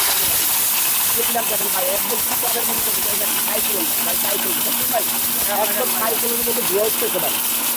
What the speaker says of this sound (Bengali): এই ইট ভাঙবো আজকে যদি ইট ভাঙে তাহলে বুঝবো যে ব্লেন্ডার সবচেয়ে শক্তিশালী